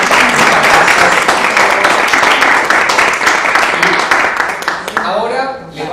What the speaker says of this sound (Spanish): un aplauso para Silvana Fabiano por su experiencia